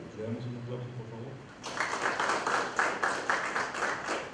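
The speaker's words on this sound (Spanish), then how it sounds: "Le damos un aplauso, por favor." Applause breaks out at an indigenous forum in Nogales, a burst of many hands clapping that starts abruptly after a short stretch of speech and continues steadily to the end.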